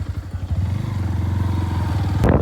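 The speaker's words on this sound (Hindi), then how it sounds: "बाइक भी आ चुकी है अपनी, तो चलते हैं बाइक पे" Motorcycle riding along, its engine thudding in a loud, steady rapid pulse close by, ending with a sharp clattering burst.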